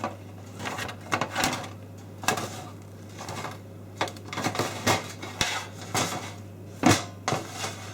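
Freshly baked low-protein bread rolls lifted off a baking tray onto a cooling rack, giving a series of light clatters and taps at irregular intervals, close and fairly quiet over a steady hum.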